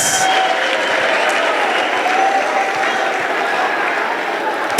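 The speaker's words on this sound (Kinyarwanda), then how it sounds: "Come on, everybody, clap your hands for your uplines." An audience at a Rwandan business kick-off training session claps their hands in sustained, dense applause at close range, steady from start to finish without any speech.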